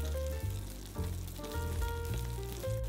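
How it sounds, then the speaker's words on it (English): Shrimp fry in a pan over medium-low heat, a steady crackling sizzle that holds throughout, with tonal background sound running alongside. "we will turn the shrimp over to brown on the other side"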